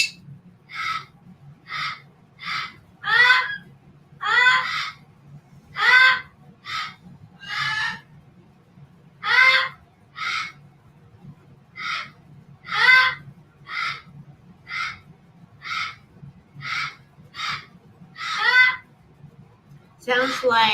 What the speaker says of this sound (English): Sounds like you've got a crow.